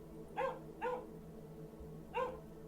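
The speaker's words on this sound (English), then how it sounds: "A small dog barked somewhere in the back of the house." A small dog barks somewhere at the back of a house, three short yapping barks, the first two close together and the last after a pause, moderately faint and distant.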